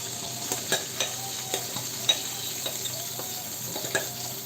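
Teler pitha, Bengali sweet fritters, fry in hot oil with a soft, steady sizzle close by, broken by faint clinks and scrapes of a utensil stirring in the pan.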